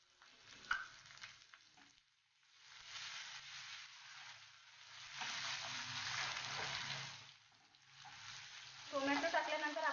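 Finely chopped tomato frying in a pan, a soft sizzle that swells and fades in waves with occasional stirring clatter, fairly quiet overall, and a brief voice near the end.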